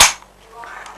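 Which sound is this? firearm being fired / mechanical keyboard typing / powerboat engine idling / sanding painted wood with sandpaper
firearm being fired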